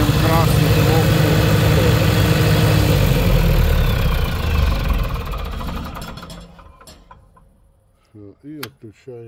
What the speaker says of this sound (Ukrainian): Тепер включаємо автомат на генераторі і нажимаємо красну кнопку.